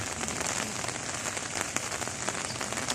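Steady, dense rain pattering on a hard surface, a continuous hiss with scattered drops standing out. No voices.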